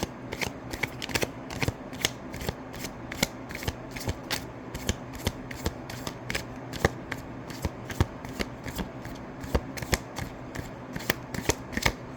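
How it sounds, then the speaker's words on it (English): Oracle cards shuffled rapidly by hand, producing a steady run of sharp, close riffling clicks in a fast, even rhythm for the whole stretch, with no voice heard. "the cards literally just slid out of my hands as I was reaching to get the ones that I already went through"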